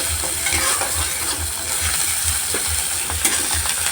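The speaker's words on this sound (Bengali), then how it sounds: "তো এটা এখন ভালো করে নাড়াই নি" Spiced singara filling with coriander leaves being stirred in a frying pan, a steady sizzle with rhythmic scraping strokes repeating about twice a second, close and continuous, no talking.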